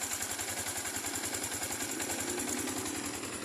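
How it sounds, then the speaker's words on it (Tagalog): Yamaha Sniper 155 VVA motorcycle engine idling close up with a rapid, even mechanical rattle pulsing through its running note, steady and loud without speech. "pakinggan natin yung under ng makina"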